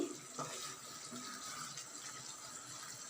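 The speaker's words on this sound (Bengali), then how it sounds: "এবারে আমি এর মধ্যে সামান্য একটু জল দেব" About half a cup of water pours into a pan of fish-head and cabbage curry as a soft, steady stream, faint and continuous throughout.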